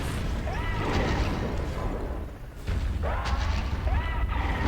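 A rumbling explosive blast of Godzilla's nuclear pulse in a video game, a loud, dense roar lasting several seconds with a short dip and then a renewed surge, with voices talking over it.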